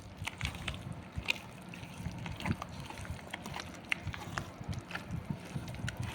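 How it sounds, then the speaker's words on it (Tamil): Hands knead and squish rice vada batter in a bowl, producing soft, irregular wet squelches and small slaps, fairly quiet and close, with no talking. "இப்போ நம்ம இதை எல்லாத்தையும் ஒன்று சேர பிசைஞ்சிக்கணும்."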